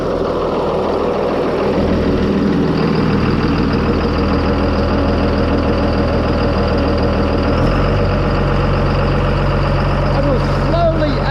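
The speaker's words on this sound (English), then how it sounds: "Now we're going to crank this big diesel engine up." A big diesel engine driving an irrigation pump rumbles at idle, a loud steady low throb that deepens and shifts partway through, with brief higher mechanical chirps near the end; a person talks faintly underneath.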